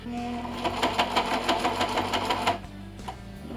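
A sewing machine stitches through a thick Harbor Freight moving blanket, its needle pounding in a fast, even rhythm for about two and a half seconds before it stops. The noise is close and moderately loud.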